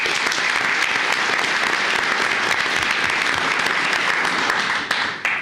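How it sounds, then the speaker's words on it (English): A room of people claps loudly and steadily at a commissioners court meeting, the dense applause continuing throughout and tapering slightly at the very end. "Let's give a big round of applause to Marquetta."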